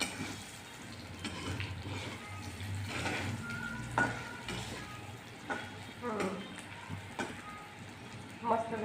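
Okra dropped into hot oil fries with a steady, close crackling sizzle, broken by scraping and clinking as it is stirred in the pan, with a few sharper pops near the end.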